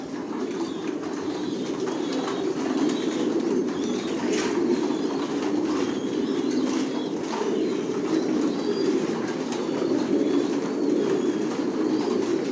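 Racer pigeons coo steadily and close, a dense murmuring flock sound running unbroken throughout, with a few sharper calls rising above the low rolling coos.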